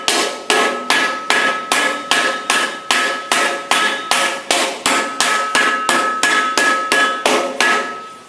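A steady series of sharp, ringing hammer blows planishing sheet metal for custom Ford Model T doors, about two strikes per second, each with a bright metallic ring, close and loud with no talking.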